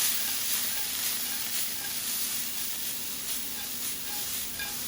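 Half a white onion sautéing in a pan for ackee and saltfish, a continuous loud close sizzle and hiss with a few faint stirring taps, no talking.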